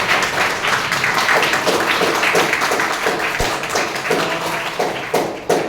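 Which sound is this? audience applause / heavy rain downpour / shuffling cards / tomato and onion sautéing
audience applause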